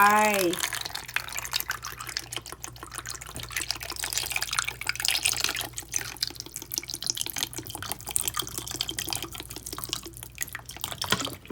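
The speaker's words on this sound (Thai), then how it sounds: "เทน้ำส้มสายชูลงไป" Vinegar pours and splashes over eggs in a container early on, followed by faint dripping and trickling amid soft background noise and some talking.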